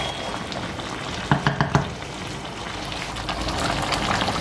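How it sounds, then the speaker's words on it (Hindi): Chicken, potatoes and spices sizzle and fry in a pot for biryani, a steady close crackle with a brief run of stirring clacks in the middle. "अब सारे मसालों को अच्छे तरीके से मिक्स करके हम एक दफ़ा भून लेंगे।"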